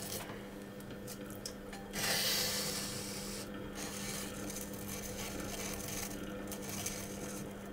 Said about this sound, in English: I'll then use a tool here to support the base at the same time as trimming it off.